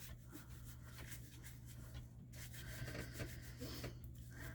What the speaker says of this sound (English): do a back and forth to make sure I am like scrubbing my scalp